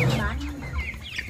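Chickens cluck close by in a short burst of rapid, throaty clucks with a brief voice.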